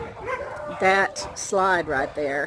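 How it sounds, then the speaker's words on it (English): Several dogs, one of them a beagle, let out a string of close, loud barks and yelps in quick bursts, with a person talking over them. "And you can hear the dogs barking now behind me."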